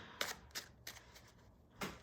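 Small tarot cards are shuffled in a few quiet, brisk bursts, separate riffles with short pauses between them, close by and soft.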